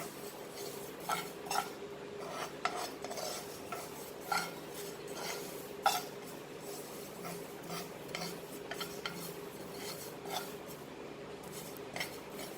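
Sesame seeds being stirred as they roast in a pan for tahini, a utensil scraping and tapping the pan in irregular strokes with occasional sharper clinks, close by and alone.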